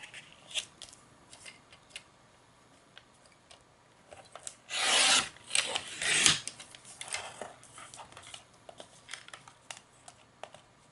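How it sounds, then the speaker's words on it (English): Small trimming of a thin sliver in a clockmaking craft project: brief rasping, cutting scrapes rising to a louder cluster midway, with quiet scattered ticks and rubs before and after. "Now let's trim our little sliver off."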